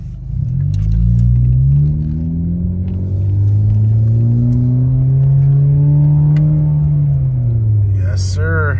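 A 2015-or-later Chrysler 200 with paddle shifters accelerates through its gears, the engine note rising, dropping at each shift and climbing again as a steady, loud drone close to the cabin.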